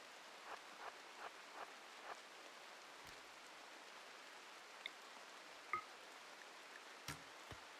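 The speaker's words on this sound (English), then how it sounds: "It's the rain." Steady rain falls in the colony survival game RimWorld, a soft, even hiss that runs the whole time. A few faint drips and light taps sit on top of it, and no one speaks.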